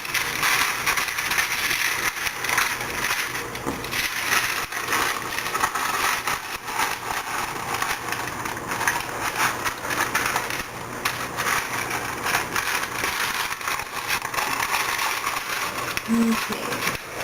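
Parchment paper crinkles and rustles steadily throughout as a triangle is folded into a piping cone for white chocolate chips, with continuous close crackling and no pause.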